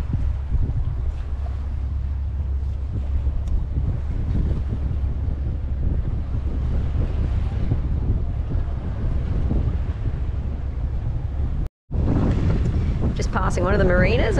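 Steady wind roar and rushing water along the hull of a sailboat sailing downwind toward an anchorage with its motor off, loud and continuous, broken by a brief cut near the end.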